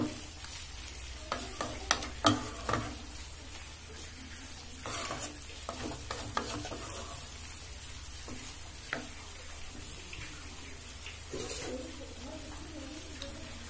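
Soya egg roll filling for cheesy soya egg rolls is stirred in a pan over a low flame, giving a faint, steady sizzle broken by soft scraping strokes of the spoon, with no talking.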